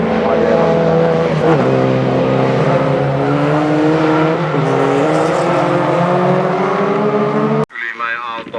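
A rally race car drives through the bends of a junior rally stage, its engine droning loud and steady with pitch rising and falling through the turns, then cutting out abruptly near the end.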